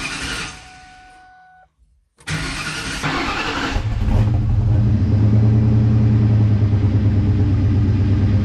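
A 2001 Mustang's engine cranks briefly, goes quiet, then catches and roars up before settling into a loud, steady rumbling idle, close by.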